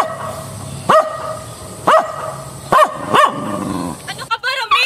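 A dog barks sharply four times at a person arriving at a door, loud and close with roughly one-second gaps, then gives a few whining yelps as the clip ends.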